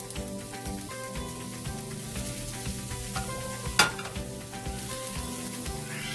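Tofu sizzles steadily in a hot pan for a Jain Massaman curry, a continuous close frying hiss with one brief sharper crackle partway through.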